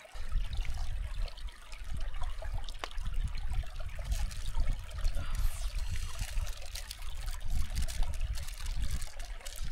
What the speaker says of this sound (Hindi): और थोड़ा सा ये जो गर्म पानी है, गर्म पानी निकाल देता हूँ जिससे कि पीने के लिए हो जाएगा।